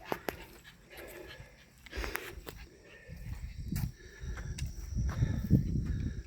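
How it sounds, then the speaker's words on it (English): An older female dog with a limp pants rapidly and rhythmically close by, with a few soft huffs and movement noises and no talking. "Could be why she's panting so much."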